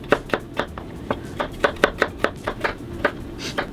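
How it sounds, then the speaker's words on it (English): Knife slicing a peeled garlic clove lengthwise on a cutting board, a quick series of about a dozen crisp, close taps in an uneven rhythm, with no talk over them. "I'm gonna cut the garlic in half. I'm gonna cut it the long way."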